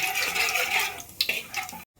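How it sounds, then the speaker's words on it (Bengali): Nigella seeds (kalo jeere) fry in hot oil in a wok with a steady, bright sizzle, broken by a few clinks of stirring near the end before the sound cuts off abruptly. "কালো জিরেটা একটু ভেজে নেব।"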